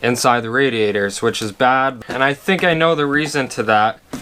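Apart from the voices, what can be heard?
No everyday noise stands out behind the speech.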